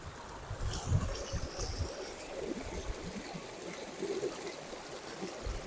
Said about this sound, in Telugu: వాటర్ అయితే పారుతుంది